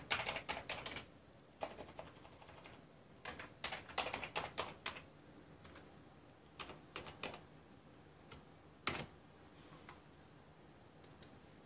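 Bursts of close, crisp key clicks as a name is entered on a computer keyboard while setting up a gaming PC, quick clusters of taps separated by pauses, with a single sharper keystroke near the end.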